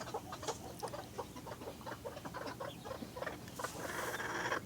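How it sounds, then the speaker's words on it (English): Newly hatched baby chicks and chickens peep and cluck in a busy, continuous patter of small calls, close by and moderately loud. "we have about 15 or 16 new baby chicks that have hatched."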